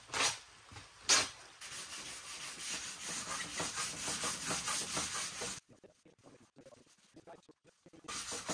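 A vintage Pepsi or Royal Crown cooler is hand sanded with 320 grit sandpaper, close rhythmic rubbing strokes scratching in quick repeated passes, pausing briefly before resuming.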